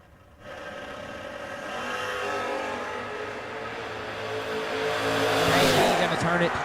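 Drag racing launch of a wagon and a Camaro, with loud engines roaring up and rising in pitch while an announcer talks over the building noise.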